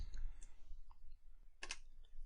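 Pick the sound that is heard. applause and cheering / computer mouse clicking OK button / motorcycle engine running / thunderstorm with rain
computer mouse clicking OK button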